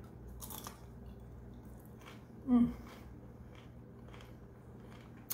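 Crunchy bites and chewing, a few crisp crackles with one louder crunch in the middle, close and otherwise quiet.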